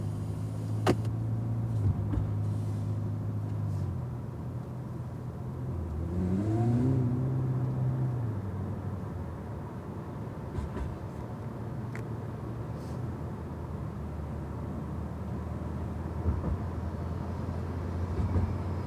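Cadillac CTS-V idling and pulling away on the Austin race track, a steady low engine drone with a brief rising rev midway, then a continuous whirring roll at moderate distance.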